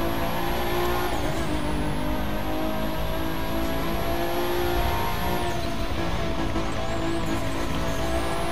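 Car engine revving and driving in The Crew 2, a loud continuous roar with tire squeal and skidding as it corners, engine pitch climbing and dropping, with no talk over it.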